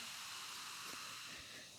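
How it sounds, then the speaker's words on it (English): Soft, continuous fizzing hiss of a carbonated drink, close and quiet, with faint crackle over its short duration. "You hear that sizzle?"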